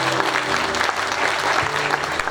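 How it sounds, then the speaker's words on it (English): Audience applause at a university research week awards and closing ceremony, a dense steady wash of many hands clapping throughout, fairly loud and close, with no talk over it. "a round of applause to all those who did not win today, but who contributed"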